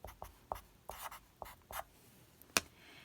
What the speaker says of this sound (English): instead of m, I'm going to write -2.